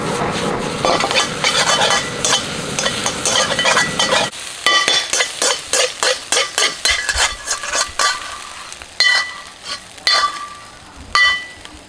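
Food stir-fries over high heat in a hot pan for Thai rice porridge side dishes, a continuous sizzle broken by rhythmic scraping and clinking of a utensil against the metal.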